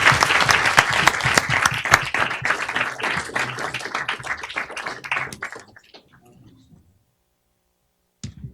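An audience at a talks event applauds speakers, dense clapping loud and steady for about five seconds before thinning out and fading to silence, with one brief clap near the end.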